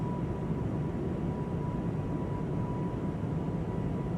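A Synaptic A220 jet in Microsoft Flight Simulator 2024 climbs after takeoff, its engines giving a steady broadband roar with a faint high whine held throughout.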